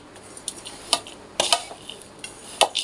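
Dry fruits being mixed in a metal dish, with a sparse run of light clinks and scraping taps at an irregular rhythm and no talk.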